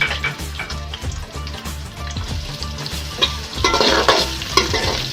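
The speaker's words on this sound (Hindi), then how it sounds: "इसमें दरमियाने साइज़ का एक अदद टमाटर ऐड कर देंगे। इसको हल्का हल्का फ्राई कर लेंगे।" A medium tomato frying in half a cup of cooking oil in a kadai, loud close sizzling with rhythmic stirring scrapes, the spitting growing brighter toward the end, no voices.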